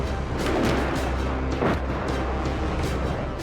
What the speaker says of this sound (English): drive an old Russian tank onto the northern ramparts and bombard the